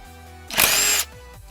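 Power tool, likely an impact driver or drill, removing a 12mm bolt from a Yamaha FZ6R motorcycle: one short loud whirring burst of about half a second, close by, with quiet surroundings before and after.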